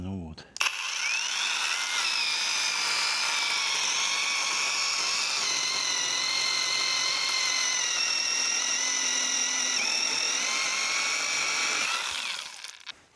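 A saw cutting through wood stumps near a forest cabin, heard up close as a loud, sustained mechanical whine that holds steady for about eleven seconds before cutting out.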